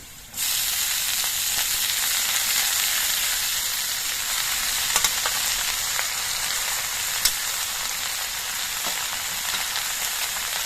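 Leafy greens tipped into a pan of reddish-fried potatoes set up a loud, steady sizzle that starts abruptly and holds evenly throughout, with a couple of faint utensil ticks.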